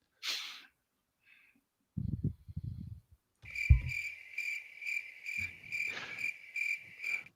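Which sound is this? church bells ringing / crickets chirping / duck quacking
crickets chirping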